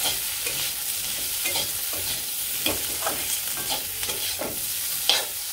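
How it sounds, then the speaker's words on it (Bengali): Potatoes fry with chili and coriander powder in a pan, a steady sizzle broken by a spatula's repeated scraping and stirring strokes, close and continuous, with nobody talking. "তো আলুটা ভালো করে একটু ভাজি ভাজি করে নিই"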